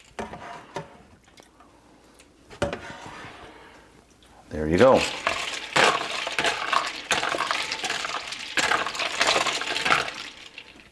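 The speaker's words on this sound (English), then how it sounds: "Drop it in our ice water bath" Cooked shrimp dropped into a cold ice water bath in a kitchen, giving a short splash and clink of ice followed by sloshing water, with a person talking over it.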